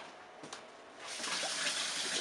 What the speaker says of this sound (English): So I'm going to go over here and get my hot water.